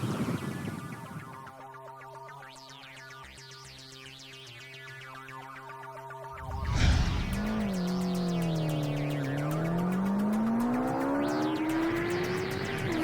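A race car brakes hard into a corner, its engine note dropping through downshifts before the revs climb again as it powers out, loud and close, with no voices.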